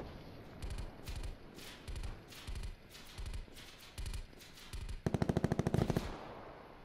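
Video game gunfire, distant, evenly spaced single shots that crack in a steady rhythm, then a rapid automatic burst near the end, all fairly faint.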